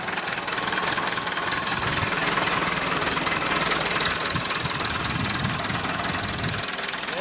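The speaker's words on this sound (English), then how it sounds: "I've also noticed just now an exhaust leak." An old Toyota Corolla engine idles with an exhaust leak, a steady, close, continuous rumble with a rough, ticking texture and no speech over it.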